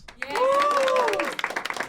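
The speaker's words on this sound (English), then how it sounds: "Is Kanis right? Round of applause." A comedy show crowd breaks into brief applause mixed with cheering and a whooping voice, loud and close, with the clapping thinning into separate claps by the end of two seconds.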